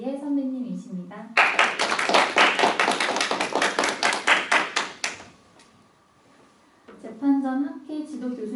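At a university mock constitutional trial, the audience breaks into loud, close applause that lasts nearly four seconds to welcome the speakers. An announcer's amplified voice comes before it, then a brief hush, then her voice again.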